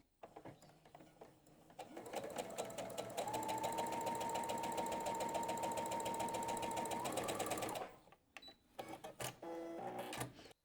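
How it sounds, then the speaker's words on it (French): Rapid rhythmic whirring of a sewing machine stitching patchwork fabric, close and steady for several seconds with a humming tone, then stopping and restarting in short bursts. "je vais coudre à 1/4 d'inch distance ici"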